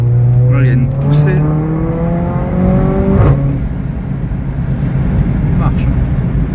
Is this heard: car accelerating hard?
yes